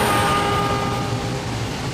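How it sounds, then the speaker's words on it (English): A train rumbles past with a steady, sustained whistle tone sounding over the clatter, loud and close throughout. "you hear the pitch of the whistle get lower and lower in frequency"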